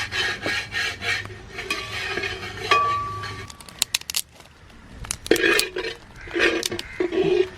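Grated coconut with ginger and garlic is stirred in a pan for village cooking, giving repeated scraping and rasping strokes with occasional clinks of the utensil against the pan, close and fairly loud.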